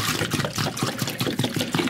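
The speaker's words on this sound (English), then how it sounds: "So what we're gonna do is just pour this water off" Water being poured off smoked pastrami in a container, a steady close splashing and trickling stream that runs continuously without pause.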